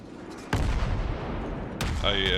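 Naval gunfire from a Murmansk cruiser in World of Warships: a sharp cannon blast that opens a heavy rumbling barrage, then a second report followed by a rising, whining tone.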